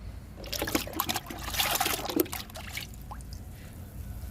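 Neem leaf liquid is poured onto a potted croton plant, giving a soft, close trickle and splash that lasts a few seconds and then fades out.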